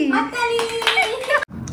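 A group claps for a contestant at a spicy fuchka panipuri eating challenge, a brief burst of applause layered under a voice talking over it.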